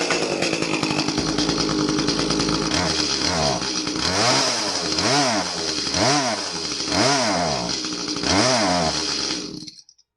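Echo CS352 chainsaw engine running rough and low on power, loud and close, with a steady buzz that repeatedly bogs down and surges in an uneven rhythm for about ten seconds before cutting off.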